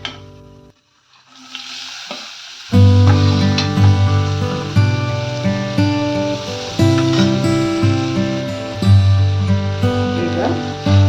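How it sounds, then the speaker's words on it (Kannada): Chopped beans tip into a hot pan and fry with a loud, steady sizzle that builds after a brief quiet start, with stirring scrapes running through it. "ಸಣ್ಣಗೆ ಹೆಚ್ಚಿಟ್ಕೊಂಡಿರೋ ಬೀನ್ಸ್ ಅನ್ನ ಹಾಕ್ತಾ ಇದ್ದೀನಿ."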